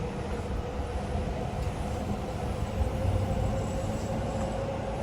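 A train rumbles steadily along elevated tracks overhead in Tokyo, heard from the street beneath, a loud, continuous low roar with rattling wheels that holds for the whole span.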